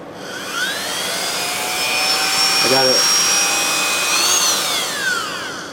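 Power drill spins at high speed boring a pilot hole in a rare NR6 Briggs engine, a close whining drone with rising and falling pitch sweeps and a brief stuttering grab midway.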